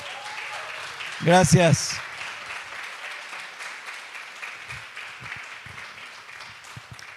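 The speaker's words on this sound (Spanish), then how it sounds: "Denles un aplauso a estos chicos" A church congregation claps for a young newlywed couple during a Sunday celebration service. Steady applause runs throughout, and a voice speaks briefly over it near the start.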